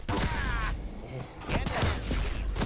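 Shotgun blasts ring out in an arena match of the shooter Quake Champions, several sharp bangs spaced irregularly, with weapon effects and game noise in between.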